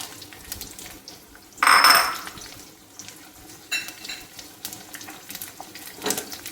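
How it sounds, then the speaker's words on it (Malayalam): Garlic dropped into hot oil for a garlic pickle sets off a sudden loud sizzling burst, which then settles into quieter intermittent crackling and stirring sounds. "ഇനി നമുക്ക് വെളുത്തുള്ളി ഇടാം."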